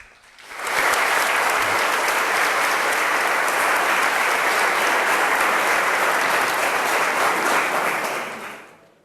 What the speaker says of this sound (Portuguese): A Leandra merece o nosso aplauso também.